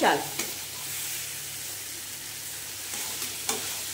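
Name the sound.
stirring and frying washed gobindobhog rice in a pan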